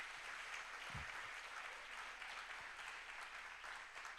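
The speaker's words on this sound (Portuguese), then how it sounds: "Aplauda Jesus por essa bênção" A church congregation applauds during a Sunday service, a steady wash of many hands clapping at a moderate distance that holds evenly throughout, with a couple of low thumps early on.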